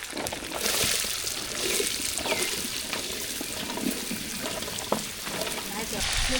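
Potatoes go into a hot tempering of mustard seeds and curry leaves, setting off a strong, steady sizzle and hiss with scattered pops and clatter, close and continuous, with a voice talking over it.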